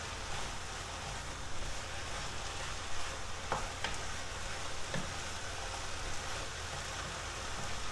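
Garlic and potato moussaka ingredients are stirred in a hot pan, giving a steady close sizzle with a few sharp utensil clicks near the middle and no voices.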